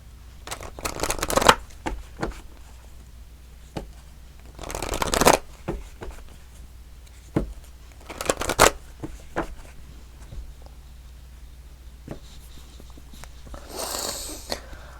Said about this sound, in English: now we're going to go ahead and pull a moon card for Pisces